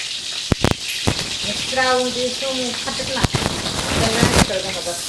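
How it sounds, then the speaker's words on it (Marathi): Chopped onion frying in a pan for an eggplant curry gives a crackling sizzle with sharp pops and clatter, while someone speaks over it. "आता आपण टाकलाय बघा मित्रांनो कांदा ह्याला चांगला लाल होऊ द्यायचा"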